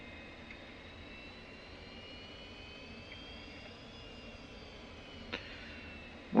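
An F-86F Sabre jet engine running, a steady whining roar with rising high tones, a short thump near the end, then a louder swell at the close.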